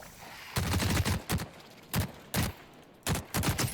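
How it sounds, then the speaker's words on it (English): Bursts of gunfire from two hostile creatures in The Cycle: Frontier shooter game, several sharp volleys in an irregular rhythm, loud and close with brief gaps between them. "with two of them potentially firing at me"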